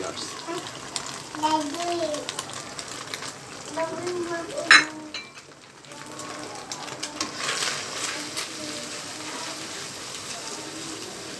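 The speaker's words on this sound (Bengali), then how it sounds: "ফেটিয়ে রাখা ডিমটা দিয়ে দিচ্ছি আমরা ডিমটা একটু ঝুড়ি ঝুড়ি ঝুড়ি ভাজার মতো করে নিতে হবে" Beaten egg scrambles and fries in a pan for Thai chicken fried rice, a soft continuous sizzle with scraping stirs while a voice talks over it.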